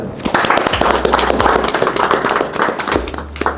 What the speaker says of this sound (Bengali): হাততালি কোথায়